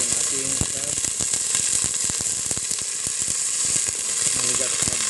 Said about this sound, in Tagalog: Lutuin muna natin yung ating crab.